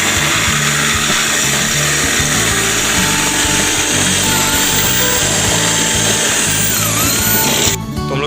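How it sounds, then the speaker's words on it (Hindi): Power drill with a 10 mm bit boring out a window's outlet hole: a loud, continuous high whine with grinding, held steadily close up before cutting off at the end. "हम लोग 10 mm की ड्रिल बिट यूज़ करेंगे जो आउटलेट वाला जो होल है उसे बड़ा करने के लिए"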